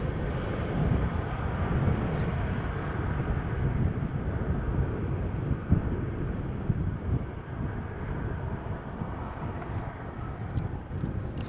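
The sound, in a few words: airplane arriving to land at Amsterdam Schiphol Airport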